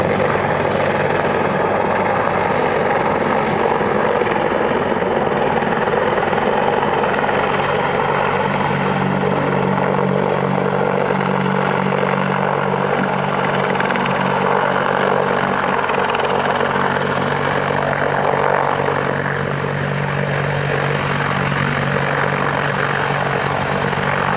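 A British Army Apache attack helicopter drones steadily and loudly throughout at an air show, its rotor thump and engine whine constant and close for the whole stretch.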